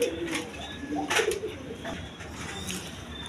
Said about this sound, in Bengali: এগুলো হাই ফ্লাইং কবুতর